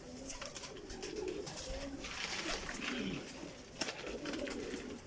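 Teddy pigeons coo in low, rolling, repeated calls close by, with a steady layer of overlapping coos and occasional sharp clicks and rustles from the birds.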